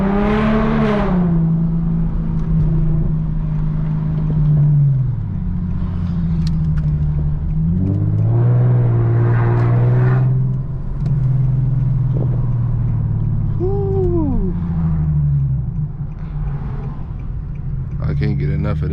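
Infiniti G37x with muffler and resonator delete, a steady loud exhaust drone with several revving surges and gear changes, heard close under intermittent talking.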